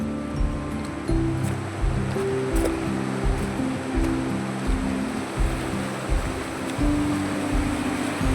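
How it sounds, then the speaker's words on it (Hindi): The Pindar river flowing through a mountain valley, a steady broadband rush of moving water heard near and continuous, with low rumbling and knocking noises underneath. "ये पिंडर नदी है दोस्तों।"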